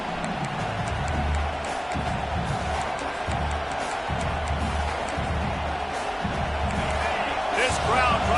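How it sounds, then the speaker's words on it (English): A football stadium crowd at an Air Force game keeps up a constant, broad roar, with a commentator's voice talking over it the whole time. "This crowd trying to make life miserable for this offense."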